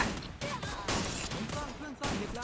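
Gunfire in the mobile game Free Fire, with a quick run of sharp shot bursts across a short stretch, heard alongside people talking.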